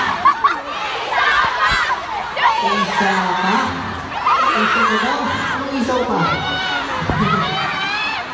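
A fan meet crowd cheers, screams and claps continuously, dense excited voices and shouts filling the space at steady loudness.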